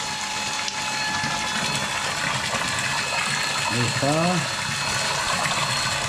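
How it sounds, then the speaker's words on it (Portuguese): Mature red wine gushes and bubbles steadily as it is racked into another container, with a continuous rushing, foamy flow and some mechanical clicking. Someone speaks briefly over it. "Quanto mais borbulhar, mais oxigênio o vinho apanha. Melhor vai ficar. Olha a espuma que ele faz."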